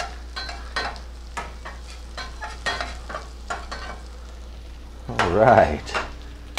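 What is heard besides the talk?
hash browns frying in a pan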